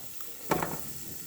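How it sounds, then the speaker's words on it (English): Soft sizzle of garlic dropped into a hot pan, a brief burst of crackling that settles into a faint frying hiss. "Sizzle. Throw the garlic in."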